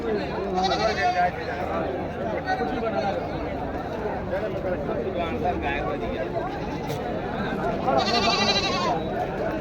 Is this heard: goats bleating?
yes